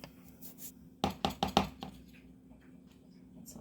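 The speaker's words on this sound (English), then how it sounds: "And we're going to stir that up." Cookie dough ingredients being stirred in a bowl, a quick cluster of four or five close, clinking knocks of utensil against the bowl, then quiet, no talk.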